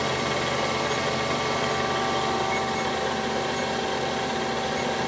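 A Kitamura Mycenter 7X vertical machining center with a 10K geared head runs its spindle at 5,000 RPM, giving a steady, continuous mechanical hum with faint high whining tones and no break throughout.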